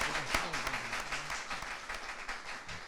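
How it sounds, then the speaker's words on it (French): A studio audience at a televised quiz show claps for the champions, dense sustained applause filling the room at an even level throughout. "Applaudissez pour ces champions de l'arène."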